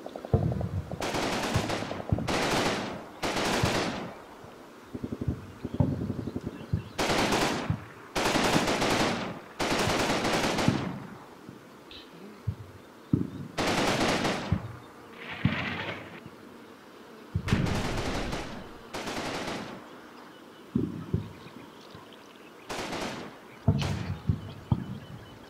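Machine-gun fire from the Combat Mission: Battle for Normandy war game comes as repeated bursts of loud, close shots separated by short pauses. Duller distant thumps fill the gaps, and there is no talking.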